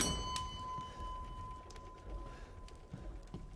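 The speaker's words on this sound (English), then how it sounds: "I wonder if anyone's gonna come attack me when they hear the bells." Bells ringing in the Resident Evil Village survival horror game: a bright sustained metallic tone with a sharp clang near the start, holding steadily at moderate level over faint game ambience.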